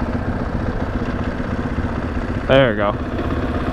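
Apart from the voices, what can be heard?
KTM 500 EXC motorcycle engine idling in neutral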